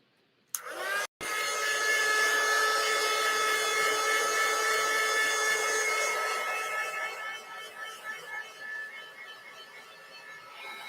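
A handheld dryer blows over a silk-screen print on a refinished frame, starting with a click and a brief stop, then a steady loud whooshing whine that holds for several seconds before wavering and easing off.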